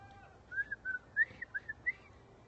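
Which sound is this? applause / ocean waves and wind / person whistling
person whistling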